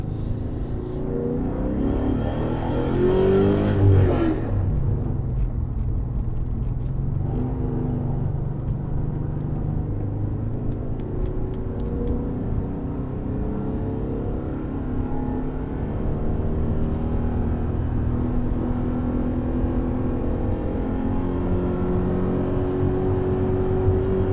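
A 2000 BMW E39 M5 sedan with Dinan S2 tuning droning steadily from inside the cabin, rising briefly in a rev early on, then holding a low, even hum.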